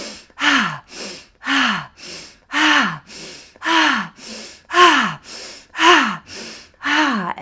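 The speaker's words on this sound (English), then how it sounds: "So when you're doing this pelvic breathing," Rhythmic pelvic breathwork, with deep audible inhales and exhales alternating steadily, about eight paced breath cycles close to the microphone with no talking.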